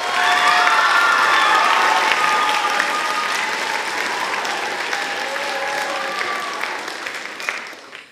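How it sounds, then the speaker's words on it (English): Audience applause at a middle school music day, a full steady burst of clapping from a crowd that holds strong for several seconds and then gradually thins and fades toward the end. "Give them a round of applause."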